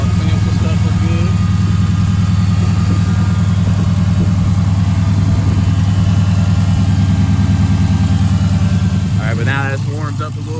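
A Dodge Charger 5.7L HEMI V8 with a freshly installed AirAid intake idles steadily and loudly close by, a deep even rumble throughout, with a short burst of talk near the end.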